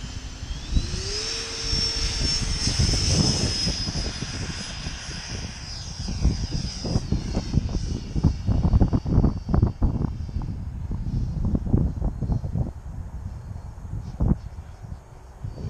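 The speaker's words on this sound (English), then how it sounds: "Maiden flight HSD Viper with pilot Nevin" An HSD Viper V2 RC model jet with an HRB 4000 turbine on 12S power on its first flight, heard as a loud, steady turbine roar with a high whine that sweeps past. There is no talking.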